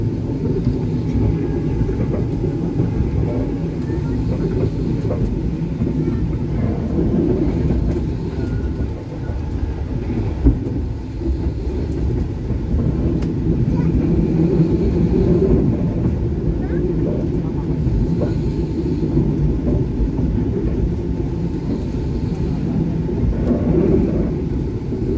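An Indonesian passenger train, the Lodaya, rumbles steadily past a station at close range, a continuous low roar with clattering wheels; voices can be heard faintly under the noise.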